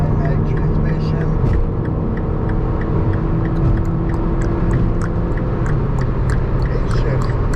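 A Mini's engine with a 6-speed automatic transmission hums steadily while driving on a freeway, a continuous low rumble with road noise beneath a voice talking.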